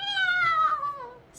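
A voice reading a children's story gives one drawn-out, falling meow in imitation of a cat; it is close, clear and alone.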